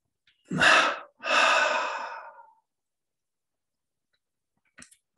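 A double inhalation during a guided relaxation meditation: two close, breathy intakes in quick succession, the second longer and trailing off, followed by near silence and a faint soft sound at the end.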